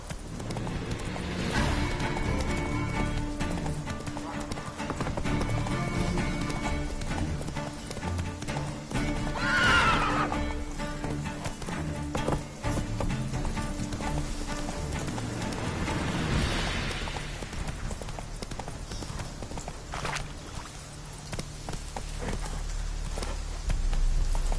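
In The Witcher 3, the horse Roach gallops with steady, close clip-clopping hooves and lets out a loud neigh partway through, with a second whinny later, all over low game ambience.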